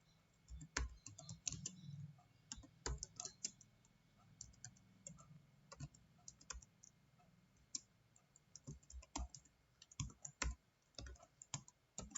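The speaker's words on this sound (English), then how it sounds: "Now we'll type the program." Quiet, irregular clicking of keys on a computer keyboard as a program is typed, in short bursts and pauses with no voices.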